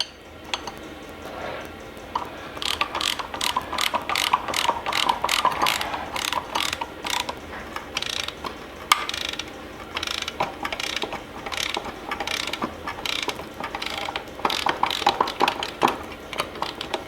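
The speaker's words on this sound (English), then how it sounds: "Then next we'll get a hub puller on here." A hub puller is ratcheted on the rear hub of a Ford Escort RS Cosworth under restoration, giving steady close clicking and metallic ticking in repeated bursts.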